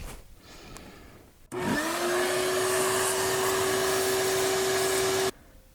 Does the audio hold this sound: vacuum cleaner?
yes